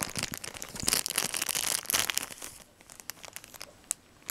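A piece of paper crinkled close up during an unboxing of Sumikkogurashi re-ment miniatures, a dense run of crisp crumpling and rustling that tapers into sparse ticks and rustles, with no talk.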